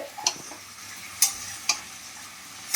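Fish head, eggplant and potato sauté with onion, garlic and ginger in a pan, a soft steady sizzle broken by four or five sharp stirring scrapes, close and without talk.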